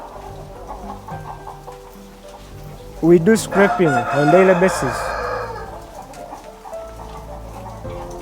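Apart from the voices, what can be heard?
chickens clucking in a poultry house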